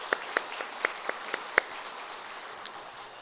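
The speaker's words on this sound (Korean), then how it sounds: "박수 한번 해주십시다." A handful of scattered, sharp hand claps ring out from a church congregation during a Sunday worship service, then thin out into faint room hiss.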